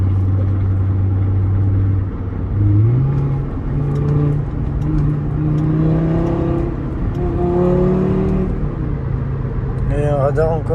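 Audi RS3 accelerating on a road in Dubai, its engine note climbing in pitch through several gear changes, loud and close from inside the car, with a rising whine near the end.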